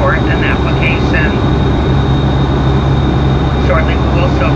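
Steady loud roar of a Boeing 757-23N airliner cabin in flight, constant engine drone under a flight attendant's public address announcement.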